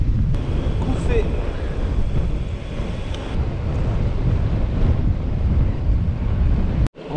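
Strong north wind buffets a cyclist riding a long-distance ultra route in western France, a dense, steady roar of wind noise on the microphone running throughout, with a brief dropout near the end.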